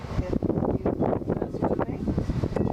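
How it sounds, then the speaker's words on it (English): Strong wind buffets the microphone in loud, uneven gusts, a rumbling roar throughout with no other clear sound. "It's a little windy out here"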